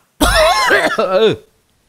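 A single harsh, close cough followed by a short throaty rasp, loud and abrupt, then silence.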